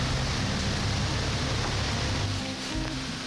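Steady rain falls during a Wisconsin black bear hunt with hounds, a dense, even hiss of drops on surfaces close by, continuous throughout with no voices.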